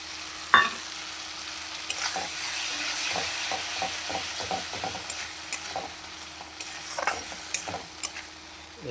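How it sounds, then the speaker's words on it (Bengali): Spice masala with salt and chopped tomato fries in a pan, giving a soft steady sizzle broken by repeated scraping and clinking strokes of a spoon as it is stirred, fairly quiet and close, with no talk over it. "মশলা আমার প্রায় রেডি হয়ে গেছে, আর একটু কষিয়ে নেব।"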